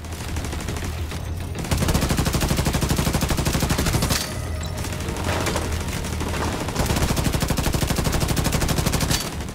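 Automated turret in The Division 2 firing in long, rapid bursts of gunfire, loud and close, with brief pauses between the bursts.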